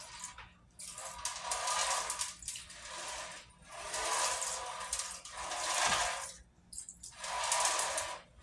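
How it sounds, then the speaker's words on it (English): Hands are washed under running water, with gushes of splashing rising and falling in about four waves, close and moderately loud, without speech. "I'll wash my hands first."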